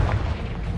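A Confringo blasting spell bursts in Hogwarts Legacy: one short, loud, booming explosion with a heavy low rumble, heard alone.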